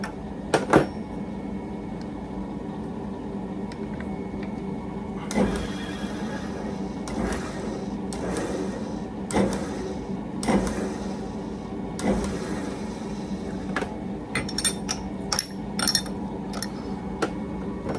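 A machine cuts inside a metal socket, taking a little off an internal shoulder. A steady mechanical hum carries sharp scraping bursts at irregular intervals, with no talking.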